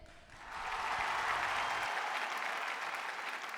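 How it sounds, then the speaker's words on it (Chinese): Studio audience at a debate show breaks into applause to welcome a team back, swelling within half a second into sustained, dense clapping that holds steady and stays fairly loud. "让我们用掌声把他们请回辩论台"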